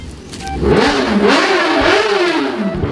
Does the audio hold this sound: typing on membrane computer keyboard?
no